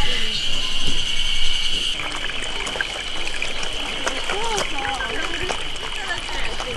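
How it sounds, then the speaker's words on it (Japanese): Small reddish-brown stream trickling and flowing at a family campsite, a steady close water babble running throughout beneath a voice and children's chatter. "これが小さい小川ですね。"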